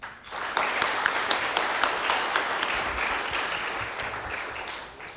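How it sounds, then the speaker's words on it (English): Applause from a conference audience at an HR conclave: a steady wash of many hands clapping, fairly loud and sustained for about five seconds, with a few sharper individual claps standing out. "The last round of applause."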